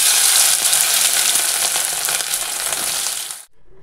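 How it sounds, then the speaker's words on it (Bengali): Whole garam masala, bay leaf and cumin sizzle and crackle in hot oil left from frying fish, a loud, steady frying hiss that cuts off abruptly near the end. "ওই তেলের মধ্যে ফোড়ন দিয়েছি, গোটা গরম মশলা, তেজপাতা আর জিরা"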